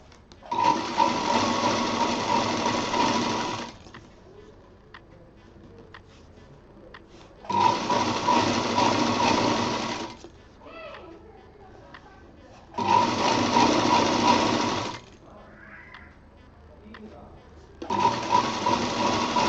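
A sewing machine stitching a folded edge on a cushion cover, running in four long bursts of steady whirring stitches separated by pauses, loud and close.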